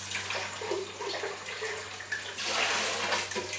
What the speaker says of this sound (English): So then what I do is just rinse my jug out.